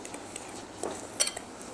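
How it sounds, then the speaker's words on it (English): A spoon stirs a sugar mixture in a bowl, making a few light, quick clinks and scrapes against the dish over a soft background. "Give that a good stir."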